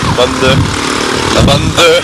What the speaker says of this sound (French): Je vous rappelle qu'il a installé un turbo sur sa moto.